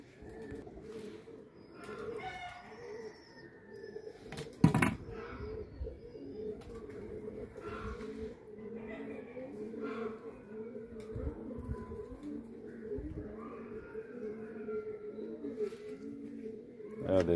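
Flying pigeons coo in soft, repeated throaty calls close by, with chirps, a sharp knock and someone talking intermittently in the background.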